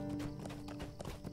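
Horse hooves clip-clop at a steady trot in Lord of the Rings Online, a rapid run of close, even hoofbeats over a busy, continuous game soundscape.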